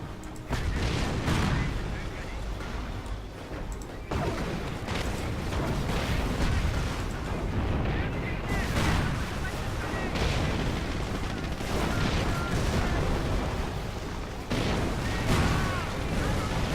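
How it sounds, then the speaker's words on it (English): Continuous barrage of World War II artillery and gunfire in the strategy game Company of Heroes, dense overlapping booms and shots rolling on without pause, loud and steady with layered battlefield noise. "just keep moving that artillery fire"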